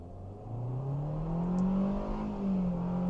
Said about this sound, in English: I'm gonna do a full throttle acceleration from the stop.